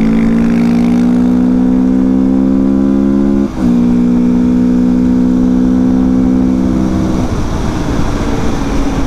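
A quad bike engine revs hard while overtaking, a loud steady drone rising in pitch, dipping briefly at a gear change, then climbing again close to the mic.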